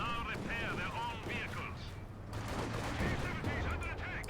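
Rapid bursts of MG-34 machine gun fire in the Company of Heroes 2 strategy game, heard under a caster's continuous commentary.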